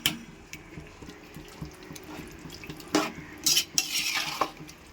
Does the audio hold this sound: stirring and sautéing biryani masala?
yes